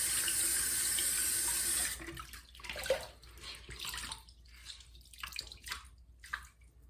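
Tap water runs steadily into a bathroom sink to rewarm a washcloth during a shave, loud and close for about two seconds before cutting off, leaving quieter splashing, dripping and wet cloth handling.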